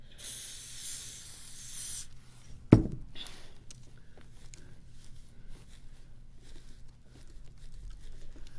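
A can of spray adhesive sprays in a steady hiss for about two seconds, followed by a sharp knock and quiet handling noises.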